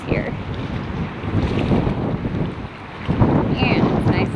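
Wind gusts steadily across a microphone beside the water on a South Florida nature walk, a loud continuous rushing with faint lapping waves and brief high bird calls.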